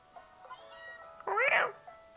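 A synthesized cat meow from the Pokémon Moon video game, a single short rising-and-falling call heard clearly and alone after faint game sounds.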